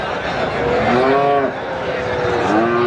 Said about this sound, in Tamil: பாருங்க எவ்வளோ கிடாரிகள் இருக்கு பாருங்க